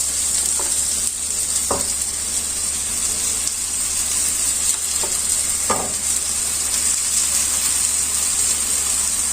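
Apples for matefaims cook in a pan with a loud, constant sizzle, broken by a few sharp scrapes of stirring against the pan; no one speaks.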